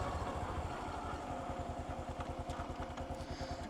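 A motorcycle engine idles with a steady, throbbing low-frequency pulse. It runs continuously and loud, close to the microphone, with no talk over it.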